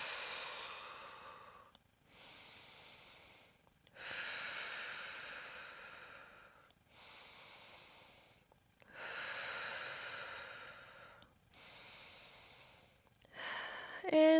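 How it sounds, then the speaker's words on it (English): Slow, steady breathing during a pilates upper body and core stretch, drawn-out breaths repeating in long swells about every three seconds, close and soft with no talk over them. "And breathe here."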